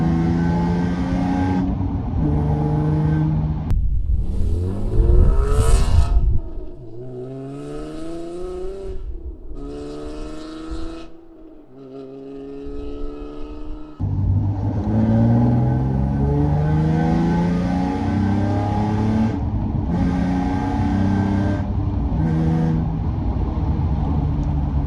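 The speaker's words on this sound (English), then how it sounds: "That is the decap pipes fitted on the 350Z." A Nissan 350Z with de-cat pipes fitted revs hard and accelerates through the gears, its engine note climbing in repeated rising sweeps with brief dips at the shifts, loud and close throughout.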